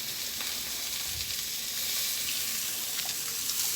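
Spinach for a Kerala-style cheera thoran sizzles steadily in a hot pan, a dense, even hiss that carries close and unbroken throughout with no voices.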